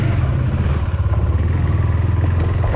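A motorcycle engine drones steadily while riding on a sunny day, a loud, close, continuous rumble with faint clatter and wind, and no voices.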